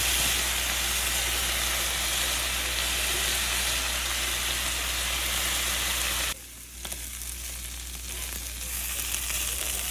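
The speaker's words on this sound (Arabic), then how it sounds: "هنبدأ بقى نقلب كده كل حاجة بقى تاخد في بعضها كده، والبصلة تتشوح معاهم" Chicken and onion sauté in a hot pan while being stirred, a loud, steady sizzle and hiss with a brief dip partway through before the frying continues.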